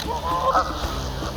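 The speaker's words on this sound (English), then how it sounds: "Teamwork comes naturally to Canadian geese." Canada geese honk in flight overhead, a steady chorus of repeated nasal calls over a low rumbling background, fairly loud throughout.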